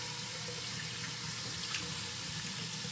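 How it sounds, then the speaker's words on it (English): Steady rush of tap water pouring over tripe being rinsed in a kitchen sink, continuous and fairly loud with faint splashing from handling the meat, no voices. "I'll just run it out in water a little bit"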